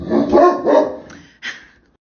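A dog gives two or three loud, close barks in quick succession, followed by a softer yip or whine, with no one speaking.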